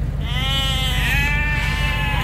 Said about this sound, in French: Y a un troupeau de chèvres qui bloque le chemin.